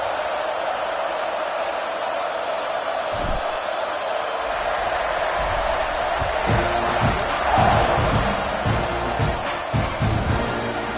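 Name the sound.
stadium crowd buzzing at college football game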